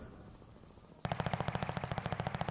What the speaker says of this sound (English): A little bit of a rattle of gunfire across it.